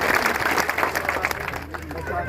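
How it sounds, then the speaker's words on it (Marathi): Audience clapping at a kirtan gathering during a Harinam Saptah, a dense burst of applause under crowd murmur that thins toward the end. "नारळ घेतलं म्हणजे यांच्याकरता टाळ्या वाजा एकदा सर्वांनी"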